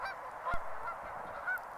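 Geese honk overhead while migrating: a few faint, distant nasal calls spaced across a steady background hiss, with one soft thump midway.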